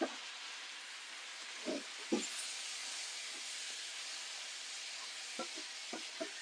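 Tomatoes and garlic sizzle in a hot pan for a chilli lima bean dish, making a steady loud hiss broken by occasional scraping stirs.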